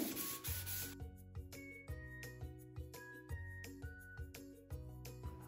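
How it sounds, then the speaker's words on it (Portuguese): Spatula rubbing pink paper down onto glue inside a cardboard box, heard as a series of quiet, rhythmic scraping strokes with a small clink near the start. The sound is close and faint. "Vem com a espátula para fixar bem na cola."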